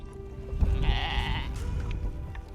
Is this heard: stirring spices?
no